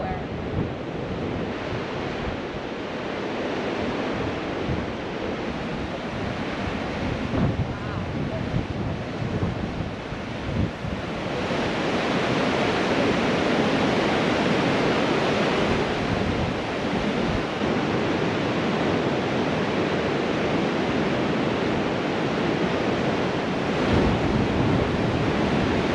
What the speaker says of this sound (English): Why is windy here?